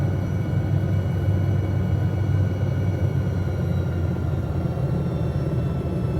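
A simulated helicopter in a flight game near Paro, Bhutan drones after its fuel is shut off, giving a continuous low, rumbling engine hum at steady loudness with no talking.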